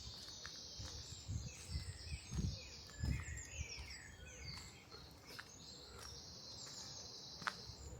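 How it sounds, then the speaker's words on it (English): Song thrush and wren singing outdoors along the Isle of Wight Undercliff, with bright, fast chirping phrases overlapping continuously at moderate distance, set against a steady insect-like hiss and low rumbling background. "Nice loud song thrush to the right, wren to the left,"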